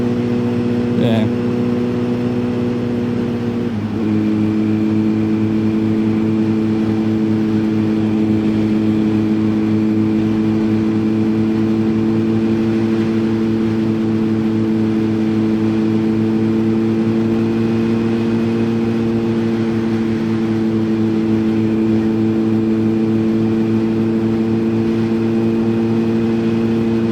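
A motorcycle engine drones steadily while being ridden, a constant, fairly loud hum that shifts pitch slightly after a few seconds and then holds for the rest of the ride.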